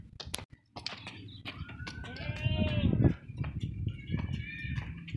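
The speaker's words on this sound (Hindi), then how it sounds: "हैवी बकरा है, वज़नी वज़न इसका माशाल्लाह बहुत है।" A heavy, thickset desi-breed billy goat bleats loudly and close by in a livestock setting, giving several wavering, quavering calls over a background of scuffling and low murmuring voices.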